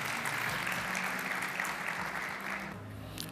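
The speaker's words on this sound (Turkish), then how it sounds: "Kuvvetli bir alkışla" An audience at an award ceremony applauds steadily, a dense, even clatter of clapping that holds for the whole stretch and eases slightly near the end.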